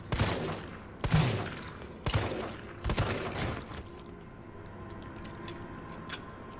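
Gunfire in the Resident Evil 3 remake: four loud, spaced shots roughly a second apart, each with a sharp crack and fading echo, followed by quieter distant pops.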